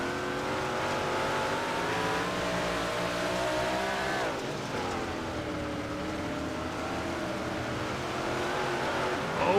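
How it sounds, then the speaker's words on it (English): Big block modified race cars roar continuously around a dirt oval at Lernerville, engines loud and sustained with a shifting pitch as the pack battles and passes, no talk over it. "Right now, Robbie Milburn, I'm wondering if he's going to have any bumper left on the front of this big block modified as he's pushing everybody around the track."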